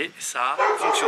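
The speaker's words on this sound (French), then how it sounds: "C'est le chien." A dog barks and yips in short bursts close by, mixed in with a person talking over it.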